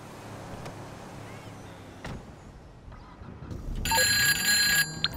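A telephone rings in a video game, a bright electronic trill bursting in near the end after quieter ambient sounds and a few soft knocks.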